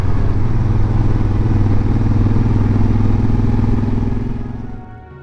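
A motorcycle riding along Highway 120 toward Xilitla, Mexico, with a steady loud engine drone and wind close by that holds for several seconds and then fades off toward the end.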